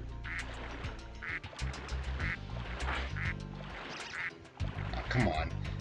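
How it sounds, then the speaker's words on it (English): A family of ducks quacking in Spyro 2, with repeated bright quacks over a game music bed while a person talks throughout. "There's a family of ducks right over here."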